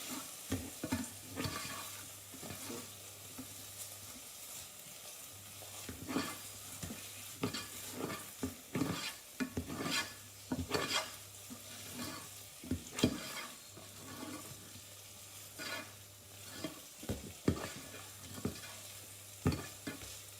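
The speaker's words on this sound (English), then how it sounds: "Still seeing your stirring techniques" Garlic mushrooms being stirred in a pan, a spoon scraping and clacking in irregular strokes over a steady low sizzle, close and fairly quiet, with no talking.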